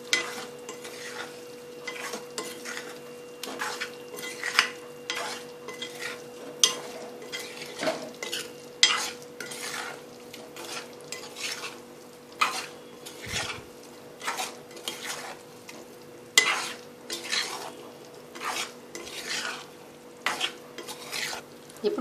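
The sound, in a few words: stirring fried eggs in chilli masala in a pan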